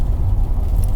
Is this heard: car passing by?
yes